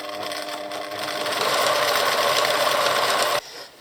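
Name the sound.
sewing machine stitching a valance seam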